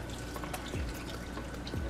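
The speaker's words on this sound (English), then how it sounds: "And now I'm going to add in 1 cup of filtered water" A cup of filtered water pours into a blender jar during smoothie preparation with limes, a faint, steady trickling and splashing with a couple of low gurgles, quiet and without talk.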